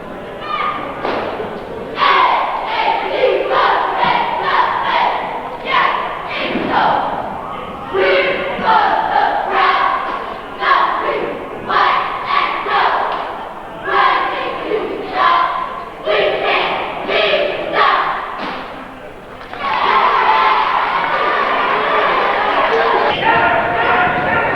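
A varsity cheering squad performs on the floor during a boys' high school basketball timeout, with rhythmic chants, stomps and claps echoing through the gym and crowd noise and talk mixed in.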